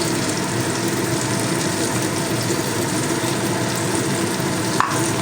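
Mustard and poppy seed paste frying in a pan for a hilsa dish, a dense continuous sizzle and bubbling close up, with one brief clink near the end, no voices.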